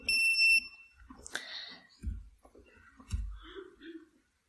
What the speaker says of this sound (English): because I liked noise, I'm going to put the buzzer back on.